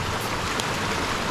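Creek water flowing steadily outdoors as broadband wash with no breaks, moderately loud and close, with no voices over it.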